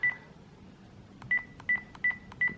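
Key tones from a Panasonic KX-PRS110 cordless telephone: five short, clear electronic beeps pressed at an uneven pace, close and fairly quiet, with no talking.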